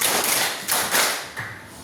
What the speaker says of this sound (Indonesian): Tepuk satu, tepuk dua, tepuk tiga, tepuk keempat